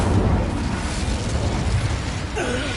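Incendio fire spell cast in the Hogwarts Legacy video game: a steady, roaring, explosive rush of flame that fills the whole stretch at even loudness, with a faint voice near the end.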